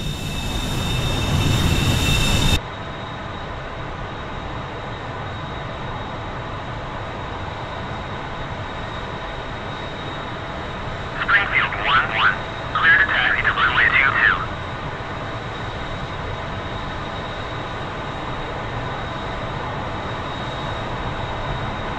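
An F-14 Tomcat jet taxis in the DCS flight simulator, set in Syria: a steady, loud engine roar with a thin high whine throughout and a short crackly burst partway through, with no speech.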